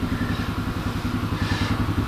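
A 1985 Honda TRX250 ATV engine idles steadily nearby, a low, even chugging rhythm with a slight rattle, continuous and alone.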